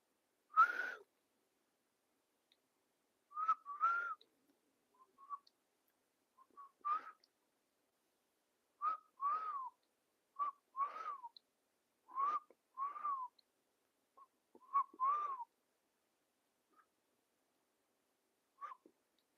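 A person whistles a melody alone in a quiet room, short phrases of clear, bright tones with pauses between them, moderately near and soft.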